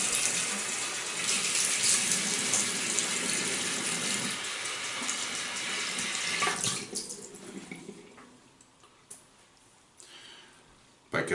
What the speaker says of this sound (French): je vais mouiller la broche, je vais mouiller ma figure